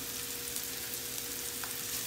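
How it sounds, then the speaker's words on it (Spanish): Onion sautéing slowly in a pan for tuna tacos, a steady close sizzle and crackle running continuously with no talk over it. "vamos a dejar aquí acitronando un ratito"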